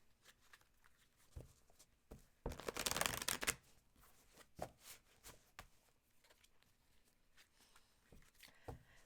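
A tarot deck is shuffled by hand close up, with one dense riffle-like burst in the middle among scattered soft card taps and rustles.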